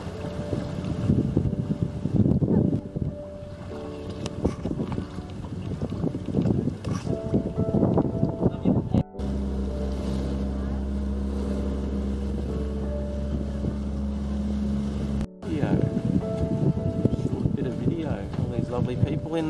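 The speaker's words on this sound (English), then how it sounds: "Boat." A small motorboat running on the sea off El Nido, its engine droning steadily throughout with heavy wind buffeting, loud and close, and a brief drop in the rush midway.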